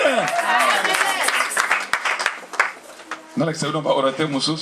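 A church congregation at a prayer marathon applauds and cheers, clapping mixed with voices at moderate loudness, with people talking throughout.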